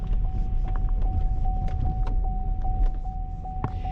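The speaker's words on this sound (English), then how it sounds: "Let's drive around the parking lot and test it out." Ferrari Challenge with a blown brake line driving slowly around a parking lot, a steady close engine and road rumble with a constant whine and small clicks and rattles throughout.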